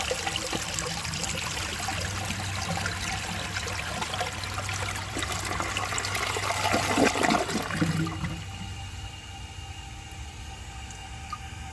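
A 1970 Montgomery Ward toilet flushes with a loud rushing swirl of water that peaks, then abruptly drops to a quieter trickle as the tank refills.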